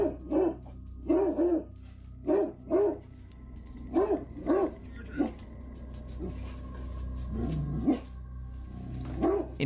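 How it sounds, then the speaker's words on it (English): A dog named Georgia barks anxiously indoors in a room, with short sharp barks in uneven pairs and clusters and occasional whimpering yips, at moderate distance with a low background hum. "her dog Georgia can be seen standing at the edge of the room, barking anxiously at a 100-year-old oil portrait hanging on the wall"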